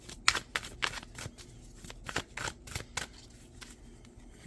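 Tarot cards being handled and a card drawn from the deck during a reading, a run of crisp papery flicks and snaps, close and fairly quiet, with no talk.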